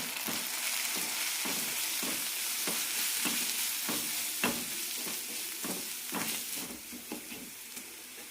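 Spiced masala for a tender jackfruit fry sizzles in a pan with a steady hiss, broken by a regular rhythm of stirring scrapes at roughly half-second intervals.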